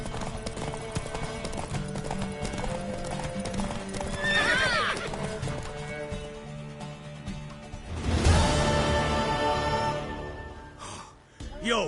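Horse hooves clip-clop steadily beneath a loud neigh and whinny in the Witcher 3 game world, with voices, ambient game sound and breathy gasps mixed in.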